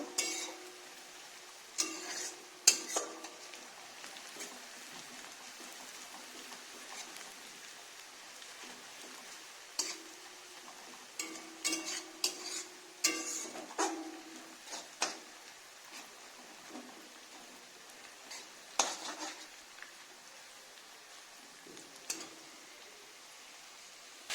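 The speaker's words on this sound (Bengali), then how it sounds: "লঙ্কার পেঁয়াজটাকে গোল্ডেন টু ব্রাউন করে ভেজে নিচ্ছি" Sliced onions and chili fry to golden brown in a pan for a homestyle chicken curry, heard as a soft, steady sizzle with scattered spatula scrapes and clinks against the pan.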